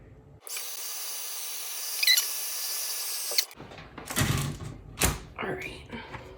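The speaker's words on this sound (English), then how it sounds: "I might actually just cheat and use my heat tool" An embossing heat gun switches on and blows hot air with a steady loud whoosh for about three seconds, then cuts off, followed by rustling and handling noises.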